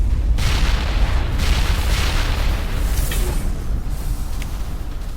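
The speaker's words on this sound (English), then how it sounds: "Big explosion." A big explosion in the video game Mass Effect: a loud, sustained booming rumble that fills the whole moment, with no voices over it.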